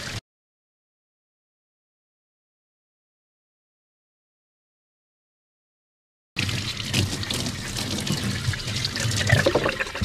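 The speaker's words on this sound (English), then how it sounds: "So I'll do a quick job of washing that through now." Water rinses through the float of a Thetford toilet cassette in a splashy, close, continuous trickle and pour lasting about four seconds, coming in after a long silence.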